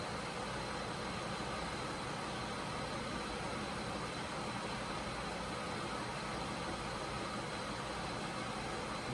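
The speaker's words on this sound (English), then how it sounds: "I'm just going to let it idle and see if we get a blip once in a while." A 2007 Mazda MPV with a suspected misfire idles steadily, a constant broadband engine hum and hiss with no blips or changes over several seconds, heard close from under the hood.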